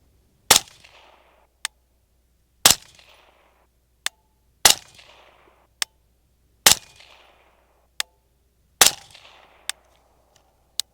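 Five rifle shots of M855A1 from a 12.5-inch LMT SpecWar ring out on an outdoor range, spaced about two seconds apart, each a sharp loud crack with a short decaying tail, alternating with fainter distant reports from other shooters.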